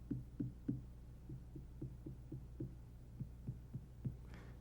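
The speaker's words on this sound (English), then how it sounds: "You want to choose the melon that sounds the most hollow." Knuckles tap a garden melon to test how hollow it sounds, making about a dozen soft, dull, evenly spaced thumps. The taps are quiet and close over a faint background hum.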